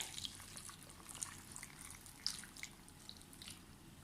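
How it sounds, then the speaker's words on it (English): Mixed sauce poured one-handed into a pot in a home kitchen, a soft continuous liquid trickle with small drips and splashes, fairly quiet and close, no voices. "So I'm just going to pour that in now, one-handed."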